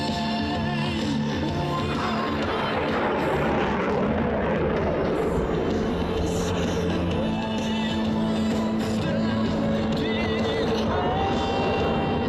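An F/A-18 Hornet roars through an afterburning turn at an air show over the Fleet Week flight line in San Francisco, a loud, sustained jet rumble with steady broadband noise that holds for the whole stretch.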